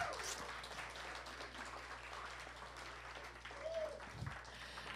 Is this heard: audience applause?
yes